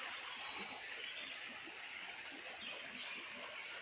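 A village stream shaded by trees flows with a continuous faint, even rush of water, like soft distant hiss with no distinct splashes or voices.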